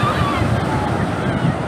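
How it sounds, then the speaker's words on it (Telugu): Sea waves rolling onto crowded Suryalanka Beach make a steady low wash of surf, mixed with wind rumble across the microphone, continuous for the whole moment. "ఆ సౌండ్ వింటున్నారా? సముద్రం సౌండ్ అసలు"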